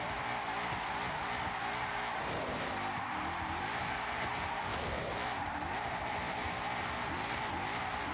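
A four-wheel-drive car skidding in a video game, with continuous tire squeal and engine noise that swell and shift over several seconds, and no speech.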